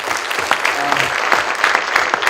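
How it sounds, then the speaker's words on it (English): A presentation audience gives a round of applause at break time, steady moderate clapping with individual claps standing out. "a big round of applause for everybody"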